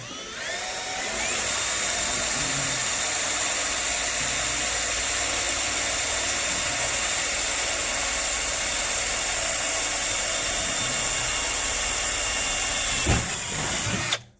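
A power drill drives a tap to cut 1/4-20 threads into pre-drilled holes on a small trailer project. A steady high motor whine runs nearly unbroken for about thirteen seconds, then a brief clunk and it stops.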